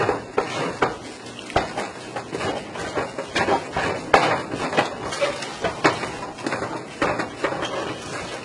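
Coxinha chicken dough being stirred in a pan on the stove: repeated scraping and clacking of a utensil against the metal pan, irregular and close, with a faint sizzle beneath.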